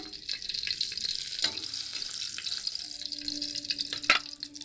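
Bay leaves and whole chillies sizzle in leftover oil, a soft steady crackle with light spoon scrapes and a couple of sharper clinks, fairly quiet and close.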